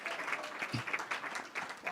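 An audience at a 55th high school reunion claps in a brief burst of applause, fairly faint and heard from within the room.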